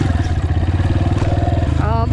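A Yamaha TTR230 dirt bike engine pulses in a fast, throbbing rhythm as the rider holds a clutch-controlled wheelie, loud and close, with a brief rising whine near the end.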